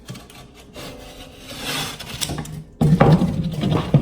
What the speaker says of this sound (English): See how I just scored it one time? Breaks real easy. And then you go over the back.